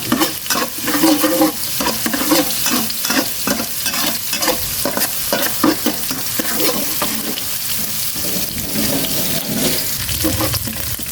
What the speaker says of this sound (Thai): กระเทียมสับกับพริก ที่โขลกไว้นะครับ ใส่ลงไปครับ แล้วทำการผัดนะครับ